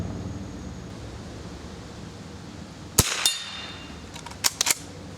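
A sharp, loud gunshot from a Remington Model 12 rifle fired at a squirrel outdoors, a single crack followed by a few brief metallic clinks and clacks.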